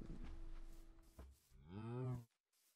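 A low, drawn-out Minecraft cow moo rises and falls near the end, preceded by soft rustling and a faint hum, fairly quiet with no talking.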